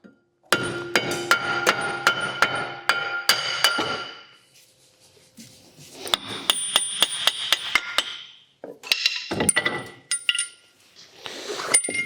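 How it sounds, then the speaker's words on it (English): Rapid metallic hammer blows ring out in several bursts, sharp clanging strikes on the brake hub of a 2017 Ford Transit Custom van with short pauses between volleys. "And then we need to hammer it a bit"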